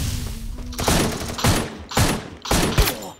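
Loud bursts of automatic gunfire come from a shooting video game, four rapid volleys in quick succession with short gaps between them. No voices are heard.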